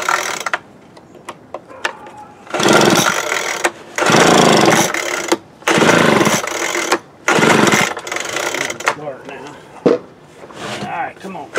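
Troy-Bilt TB430 leaf blower engine after an idle adjustment, revving in four loud buzzing bursts of about a second each, with quieter idle gaps and clicks between them, close up.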